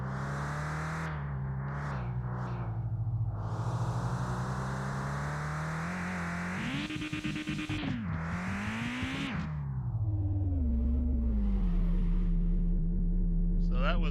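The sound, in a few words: front-wheel-drive hot hatch car driving in video game Mon Bazou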